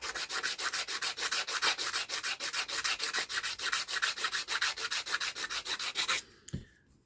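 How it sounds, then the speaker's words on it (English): Rhythmic back-and-forth sanding on a piece of copper, quick even rasping strokes repeating steadily for about six seconds before stopping, close and clear with no talk. "so you can watch me sand a piece of copper."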